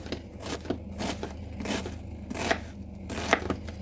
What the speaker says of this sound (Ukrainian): крышу цибуля